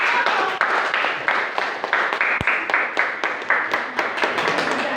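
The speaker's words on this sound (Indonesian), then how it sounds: "Berikan aplaus yang meriah untuk kelompok 1." Children clapping together in a classroom, a steady dense patter of many small hands that carries on for several seconds at a fairly loud level.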